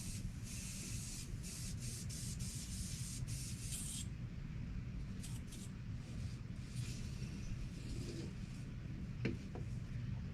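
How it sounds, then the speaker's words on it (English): An airbrush gives a faint, steady airy hiss of spraying throughout, with brief brighter bursts early on and quiet room tone beneath. "I have a garbage can over here and I just spray it through until I see it coming."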